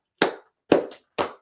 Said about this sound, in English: let's clap it up for class, man